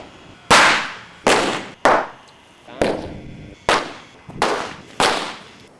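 Homemade firecracker charges buried in the ground go off in seven sharp, loud bangs at irregular intervals, each with a short fading tail.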